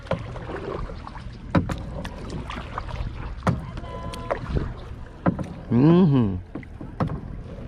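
A kayak is paddled fast on open water, with rhythmic paddle splashes and strokes under wind noise, and people talk briefly nearby.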